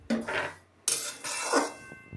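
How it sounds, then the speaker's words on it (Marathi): Semolina being dry-roasted in a wok, with a few scraping, clinking strokes of a spoon against the metal pan in short bursts, close and fairly quiet. "कढईत रवा टाकून थोडंसं गरम छान भाजून घ्यायचं"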